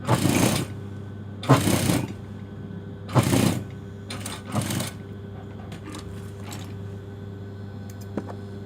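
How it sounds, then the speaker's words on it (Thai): A sewing machine stitches a wide hem on a pair of trousers in several short bursts. Three strong runs come first, then a couple of shorter ones, followed by faint ticks with quiet pauses between them. "ก็เย็บขอบใหญ่ ๆ อย่างนี้เลยนะคะ"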